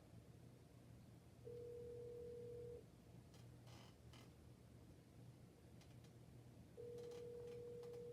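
Two steady electronic phone rings, each lasting about a second and a half, separated by a pause, over a low hum and faint background clatter.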